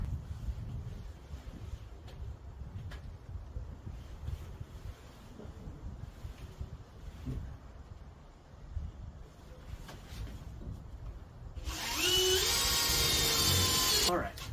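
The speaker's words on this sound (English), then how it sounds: "So now we can continue with the self-tapping screws." A power drill drives self-tapping screws into the frame of a security door on French doors, a loud burst of whirring near the end following a long stretch of quiet handling and light wind noise.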